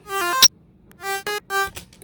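Bright Serum synthesizer patch in FL Studio for future house, playing a few short tonal stabs with a sharp click between them, clean and close with no other sounds.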